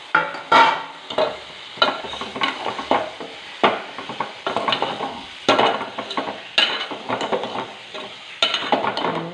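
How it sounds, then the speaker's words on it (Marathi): Food being stirred with a spoon in a pan, a steady run of repeated scraping strokes over a light sizzle, close and fairly loud with no voices. "आता हे आपण 1 चमच्याने ढवळून घेतलेलं आहे"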